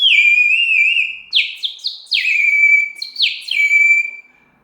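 A terracotta spirit bird whistle filled with water gives a loud, clear, bird-like warbling trill in several bubbling phrases, close and alone until it fades out at the end.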